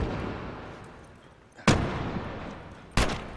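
Two loud, sharp gunshots from enemies in The Last of Us Remastered on PS4, spaced over a second apart against a low background rumble, with no talking.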